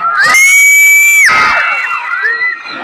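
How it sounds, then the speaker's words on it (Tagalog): Audience at a beauty pageant shouting and cheering loudly, with high shrill screams and whoops layered over a crowd roar that gradually fades. "Wala po bang mas malakas na hiyawan dyan?"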